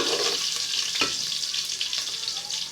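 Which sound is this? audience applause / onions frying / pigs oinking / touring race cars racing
onions frying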